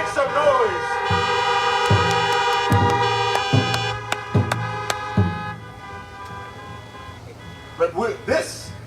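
Car horns at an outdoor political rally blare in a rapid series of toots and long blasts alongside a siren-like wail, loud and close, with a voice heard toward the end.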